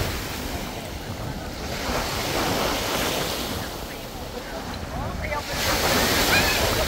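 Surf washing onto Poca Beach in Boracay, with a continuous rush of waves and gusts of wind buffeting the microphone, heard close and fairly loud.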